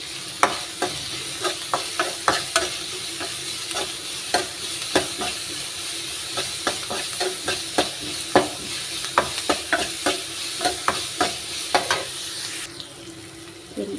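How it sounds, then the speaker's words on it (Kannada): Onions frying with a little salt in a pan, a continuous sizzle broken by repeated sharp scraping stirs and utensil taps, close and fairly loud. "ಈರುಳ್ಳಿ ಫ್ರೈ ಆಗ್ತಾಯಿದೆ"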